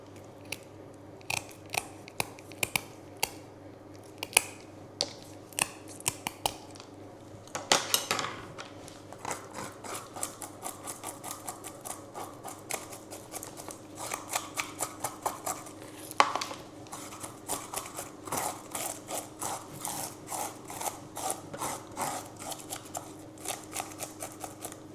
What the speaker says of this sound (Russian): Возьму специальную доску для рыбы и почищу полностью всю рыбу.